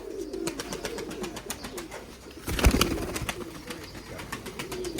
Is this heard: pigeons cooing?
yes